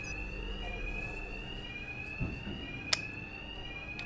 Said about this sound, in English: these thugs can't hear a thing over the alarms